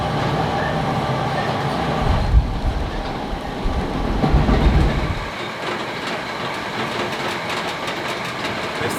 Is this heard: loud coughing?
no